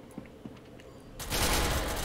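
Gunfire in the game SCP: Secret Laboratory: a couple of faint pops come first, then a sudden, loud burst of rapid shots fills the last second.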